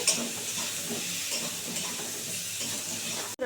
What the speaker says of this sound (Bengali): দু মিনিট নাড়াচাড়া করে নিয়েছি জলপাইটাকে